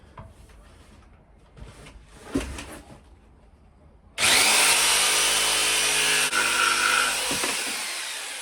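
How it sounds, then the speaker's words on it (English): A jigsaw fitted with a thin blade cuts through oak while finishing a boat galley. It starts abruptly after quiet handling noises, then runs loud and steady, with a brief dip as the cut continues. "I'm using a really thin blade on the jigsaw for this because, as I said, it doesn't cut very nicely"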